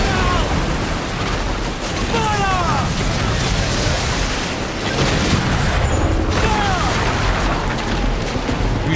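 Ship cannons fire in Assassin's Creed Black Flag during a naval fight with a Spanish frigate, deep booms rolling over a dense, roaring battle din of wind and sea, with shouted crew voices mixed in.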